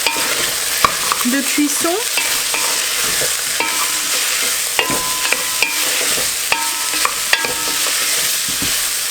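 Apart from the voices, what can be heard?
stirring and scraping the bottom of a cooking pot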